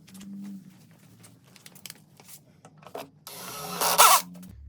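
Screws driven into the sides of a triangle corner display case with a power drill or driver, several short rubbing and scraping bursts followed by a louder, sustained whirring drive near the end, all close up.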